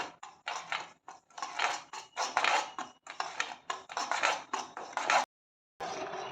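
Semolina roasting in ghee in a pan over a low flame, with a steady run of close metal scraping and clinking as the spoon stirs, broken by short pauses.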